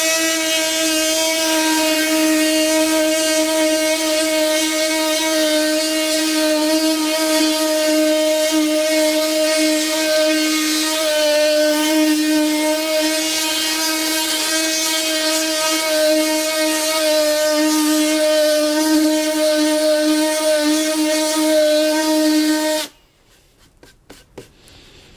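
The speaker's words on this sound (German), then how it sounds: "Also es macht, was es soll, es schleift wirklich und die Oberfläche ist wirklich angenehm weich." A 4-in-1 cordless tool sands with 60-grit sandpaper, giving a loud, steady, high motor whine that holds evenly for about 23 seconds and then cuts off abruptly, with no talking.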